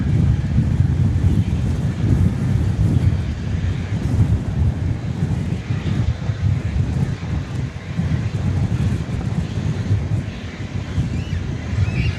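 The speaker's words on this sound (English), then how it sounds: "Wind picking up again." Wind at an airport blows in a constant, heavy low rumble against the microphone, gusting unevenly throughout with a faint distant hiss above it.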